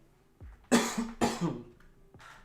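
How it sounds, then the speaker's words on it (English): Two close coughs in quick succession, sharp and fairly loud, followed by a fainter short breathy sound, with no talking. "I'm going to cough."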